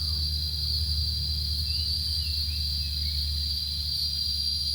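A steady, high-pitched drone of cicadas fills the air continuously, with a low background hum underneath and no voices.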